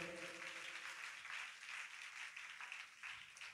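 Congregation at a New Year church service clapping hard, a steady wash of many hands filling the space alone without talk, evenly sustained throughout.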